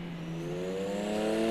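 A Porsche 911 GT1-98 race car engine in Project CARS 2 revs steadily upward, a loud, close, continuous whine rising in pitch over a second and a half with no talk.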